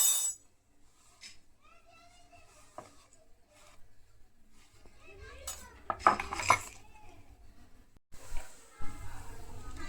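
Peanut masala snack being mixed in a bowl with chopped vegetables, a spoon scraping and clinking against the bowl in uneven bursts, close and moderately loud, with a brief bout of louder clattering.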